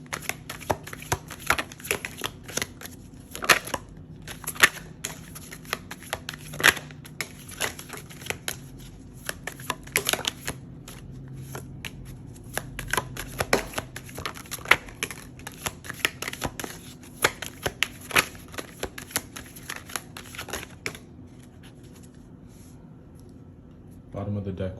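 A deck of tarot cards shuffled by hand close up, giving a long run of crisp riffles, flicks and soft slaps in irregular bursts that continue for over twenty seconds, with a short pause near the end.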